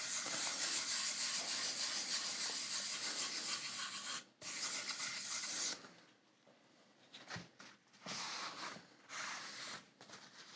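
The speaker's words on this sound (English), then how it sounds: "Let the sandpaper do the work." Hand sanding of a guitar body during refinishing, with sandpaper rubbing steadily in long continuous strokes that pause and then return in shorter bursts, close and fairly loud.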